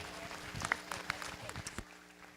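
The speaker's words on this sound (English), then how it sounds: "Give her a round of applause." Brief, faint scattered applause from a small audience at a breeding swine show, a few quick claps over a quiet indoor background before fading out.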